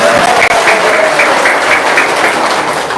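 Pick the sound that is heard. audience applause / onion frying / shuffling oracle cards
audience applause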